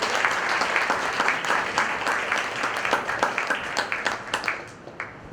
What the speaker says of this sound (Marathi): आपण एकदा जोरदार टाळ्यांचा